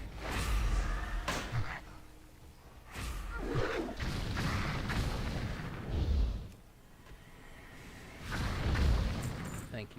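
Gunfire in the dungeon game Deeplands sounds as a run of dull booming shots and thuds, some close and heavy and others softer, over a noisy, cluttered background of battle sounds.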